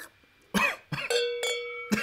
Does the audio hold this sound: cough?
yes